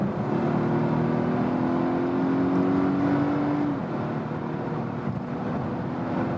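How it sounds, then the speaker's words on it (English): A Volvo hybrid wagon accelerates at high speed with a loud, sustained cabin drone and a rising tonal whine that climbs for a few seconds, then settles into steady road and engine noise. "I'll stay now in the hybrid mode and see how the acceleration at high speed turns out here."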